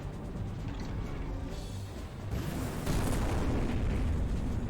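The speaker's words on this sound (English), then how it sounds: "Chest missile." Chest missile explosion from the mecha game Robot Alchemic Drive, a dense rumbling blast that builds and swells louder in the last two seconds, with no talk over it.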